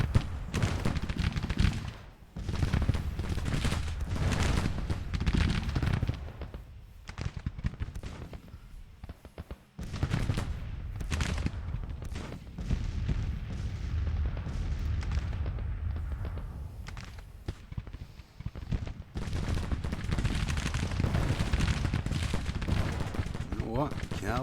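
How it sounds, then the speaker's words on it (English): Relentless musket volleys and booming artillery from a Civil War video game battle roar almost without pause, with voices faintly underneath. "we can't see that brigade that's shooting at us"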